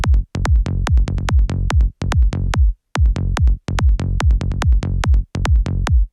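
Punchy psytrance groove built from a Serum bass patch locked with a kick drum, repeating rolling bass notes between steady kicks, loud and continuous with brief gaps at bar ends.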